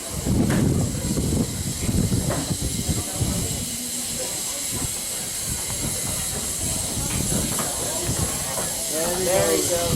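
A steam locomotive on the narrow-gauge Talyllyn Railway runs around its train at Tywyn Wharf station, hissing steam and chuffing nearby with rail clatter, while people talk over it.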